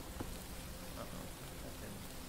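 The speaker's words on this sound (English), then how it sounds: "the rain, huh? I love it. I love the rain." Steady rainfall from a Black Ops 3 custom zombies map set in a garden, a soft, dense hiss of drops that stays even and continuous throughout, with no clear voices.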